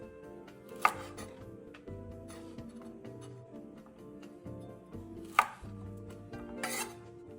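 A knife trimming the stem ends off washed okra on a board, quiet irregular cutting taps with two sharp louder knocks against the board, close and with no voices.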